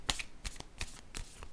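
A playing card is drawn from a deck, giving a few brief crisp card snaps and slides spaced apart, fairly quiet with no talking.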